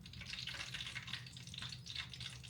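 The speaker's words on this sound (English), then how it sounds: "Starting to make them frying sounds." Steady crackling sizzle of chicken gizzards frying in hot grease, a continuous hiss with small pops, fairly quiet and with no talking.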